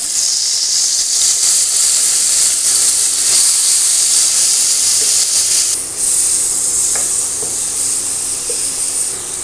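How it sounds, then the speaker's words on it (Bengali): Prawns frying in hot oil in a pan on an induction cooktop, a loud, steady hiss and sizzle throughout with slight surges, close and alone without talk. "তেলটা দিয়ে দিলাম। এগুলোকে ভেজে নেব।"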